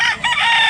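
A bulik gamecock crows close by, a single short, loud call that starts with a brief dip and then holds a strained, steady tone to the end.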